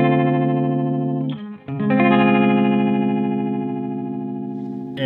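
A guitar effects pedal sounds a recalled preset: a sustained, heavily processed distorted tone with chorus shimmer that cuts out briefly, then rings on loud and steady, slowly fading, with no talk.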